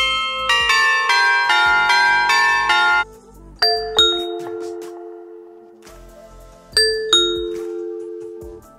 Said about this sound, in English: selecting the sound you want to hear when someone presses the doorbell